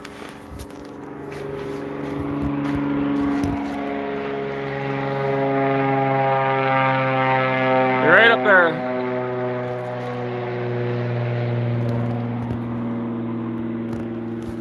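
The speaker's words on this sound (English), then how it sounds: "That was a float plane, just took off from the lake not too far away." A float plane climbs away after taking off from a lake near an Alaskan homestead, its propeller engine droning steadily and swelling louder mid-clip before holding, with people talking over it.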